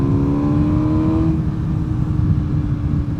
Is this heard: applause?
no